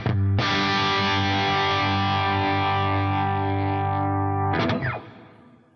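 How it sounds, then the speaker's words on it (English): Electric guitar played through a Fractal Audio Axe-FX II amp and cab model with reverb, one sustained distorted chord ringing steadily for about four seconds, then a quick restrike and a reverb tail fading out, alone and loud. "You're hearing the input come into the amp, the cab, feeding a little bit of that delay into the reverb"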